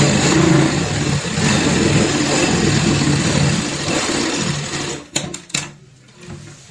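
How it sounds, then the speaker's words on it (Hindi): A sewing machine stitches layered bed sheet fabric with foam and lining, running in a steady mechanical whir before stopping, followed by a few sharp clicks of the machine. "यहाँ से हम इस तरीके से निशान के ऊपर सिलाई लगाएंगे।"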